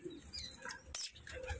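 Pigeons cooing faintly in a loft, with soft throaty calls and a few light chirps in a quiet setting.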